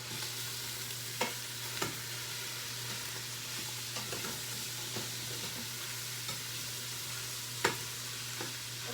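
Beef fries in olive oil inside an Instant Pot with a soft, continuous sizzle, punctuated by occasional sharp clicks from stirring, all over a low steady hum.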